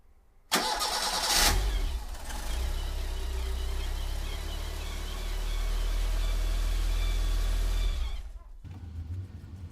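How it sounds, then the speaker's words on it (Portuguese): A 1996 Fiat Tipo 1.6 MPI engine fresh from a spark plug change cranks briefly and catches quickly, then settles into a steady, loud idle close by before cutting off. "E o motor pegou. Uma partida bem saudável, fácil."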